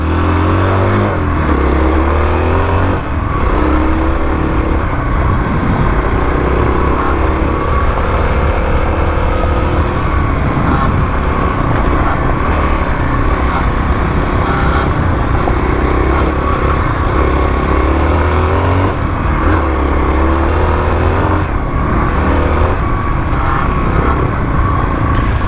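A Kawasaki KLX351 dirt bike roars continuously and loudly up close, its engine note rising and falling as the rider downshifts and lets the rear end slide loose, with steady wind rumble throughout.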